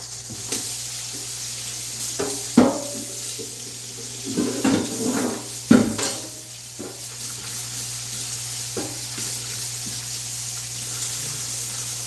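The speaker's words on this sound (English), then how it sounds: "I'm going to have to wash all of this down because I'm sure the oil went all over the place." Running water splashes into a kitchen sink as oily dishes are washed, with intermittent clatters of dishware and a steady low hum beneath, close and moderately quiet.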